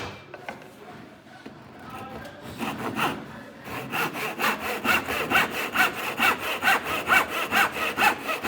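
Hand saw cutting the end off a wooden rail, starting with a few tentative strokes and settling into a steady, rhythmic back-and-forth rasp of about two strokes per second, close and clear with no talking.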